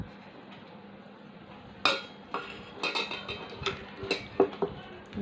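Chicken pieces being mixed in a bowl with pepper, salt, paprika, coriander, garlic powder, onion powder and a quarter cup of vinegar, giving soft wet stirring and scattered clinks of utensil against the bowl, close and fairly quiet with no talk.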